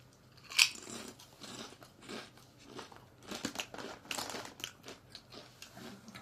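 Bacon-flavoured potato chips being bitten and chewed close up, a sharp first crunch followed by a run of crackly, irregular chewing crunches.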